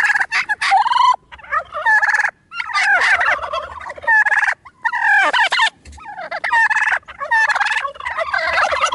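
A turkey gobbles loudly and close, with rapid rattling bursts repeated several times in quick succession and brief pauses between them, no voices present.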